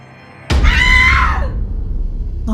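A woman lets out a single loud, shrill scream that rises sharply and trails off over about a second, leaving a low, rumbling background with no speech.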